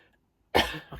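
A person gives a single sharp, close cough after a moment of silence, followed by a softer tail.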